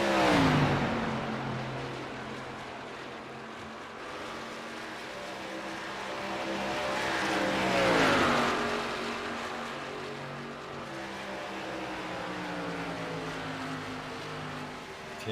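Race cars at a Texas track championship, engines droning at a moderate distance, swelling as they pass around the midpoint and then receding, with a continuous layered hum and no talking.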